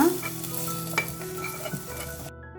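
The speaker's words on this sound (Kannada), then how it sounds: "ಬೆಳ್ಳುಳ್ಳಿ ಒಗ್ಗರಣೆನ ಈ ಒಳಗಡೆ ಹಾಕೊಳ್ಳೋಣ" Hot oil sizzles and crackles steadily as a garlic tempering is poured into a dish, with a brief sharp spike partway through before cutting off.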